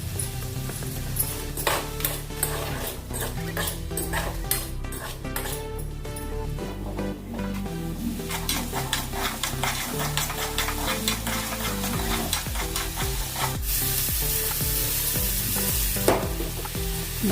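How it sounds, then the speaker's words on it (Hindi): Green peas being stirred and roasted in a pan for a dhaba-style matar sabji, with a steady close sizzle under repeated scraping and clinking of the spoon against the pan, no talking. "इसको थोड़ी देर भूनेंगे मटर को"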